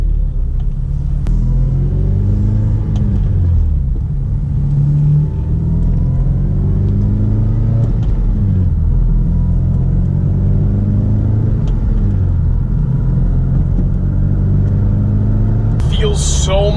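A Honda Civic Si being driven and shifted through its gears, the engine's low rumble rising and falling steadily from inside the cabin, with a short sharp noise near the end.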